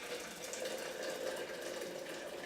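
Boiled water is poured from a kettle into a glass French press over a tea bag, giving a soft steady trickle close by, quiet and without talk.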